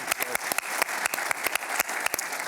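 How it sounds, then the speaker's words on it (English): An audience applauds a guest speaker at a lecture event: a steady wash of many hands clapping, with sharp individual claps standing out, continuing throughout with no talk over it. "one more round of applause for Tim Wu being here today"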